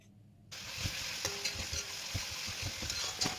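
Onion sautéing with ginger garlic paste in a pan for a Kerala-style chicken roast: a soft steady sizzle begins after half a second, overlaid with rhythmic scraping stirs, close and fairly quiet.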